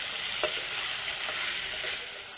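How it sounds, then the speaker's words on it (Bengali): Capsicum fries with ginger, green chilli and tomato in a steady, even sizzle, broken by a single sharp scrape of stirring near the start and a softer one later. "দেখো ক্যাপসিকামটা এমনভাবে ভাজতে হবে, সেদ্ধ হবে কিন্তু ঘেটে যাবে না।"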